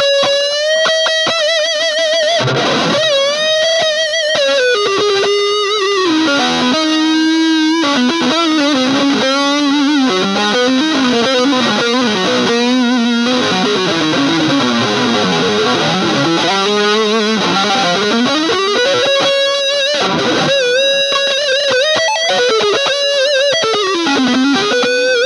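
An electric guitar plays through an Orange Crush 35RT amp with chorus, reverb and delay, a loud, continuous line of sliding, distorted notes with a wide, echoing wash, with no voices.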